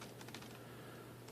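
Soft, sparse keystrokes on a wireless keyboard used to set up a Raspberry Pi, a few faint clicks clustered early against a quiet hiss.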